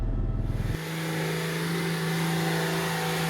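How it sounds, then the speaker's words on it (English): A Nissan Patrol off-roader climbing a steep slope near Lake Baringo on a charge event: a loud, throbbing low engine note at first, then a steady, sustained drone under strain as it keeps pulling uphill. "The mighty Nissan patrol of the Gecko Tribe Chargers was powering its way up the hill"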